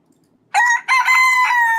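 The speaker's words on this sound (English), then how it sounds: "Lots of chickens on my farm here." A rooster on a farm crows once, loud and close: a bright, harmonic call that starts abruptly, breaks briefly, then holds a long wavering note, with silence before it.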